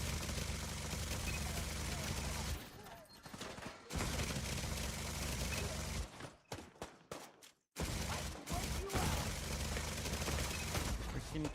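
Sustained automatic turret gunfire in The Division 2, loud and dense bursts with brief gaps and a stuttering pause midway, with a voice talking over parts of it.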